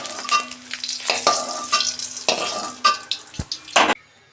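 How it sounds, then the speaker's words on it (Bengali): Four eggs coated in salt and turmeric fry in oil in a kadai, loud close sizzling in uneven bursts with scraping and stirring noises before it stops abruptly. "ডিম 4টে আমি ভেজে নিচ্ছি, নুন আর হলুদ মেখে।"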